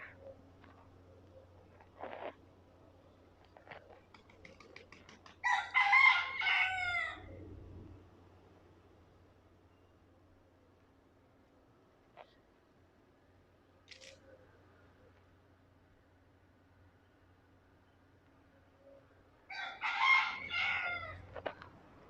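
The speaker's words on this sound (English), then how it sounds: "So we have some very well-educated chickens here." Roosters crowing on a Key West street in Old Town, two loud close crows about fifteen seconds apart with soft clucks and faint street sounds between them.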